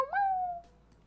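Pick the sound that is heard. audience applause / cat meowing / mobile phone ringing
cat meowing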